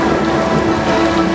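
A loud, steady wash of rain plays as a sound effect during a school stage performance, dense and hissing without a break.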